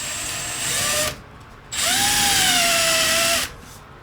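A power drill drives a self-tapping screw in two close, loud bursts, the motor whining, dropping briefly between runs and pitching down under load.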